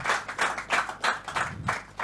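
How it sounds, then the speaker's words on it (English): An audience claps for Adenike after her talk at an oratory competition, a close, bright patter of hands rising and falling in several uneven bursts over about two seconds. "a round of applause for Adenike"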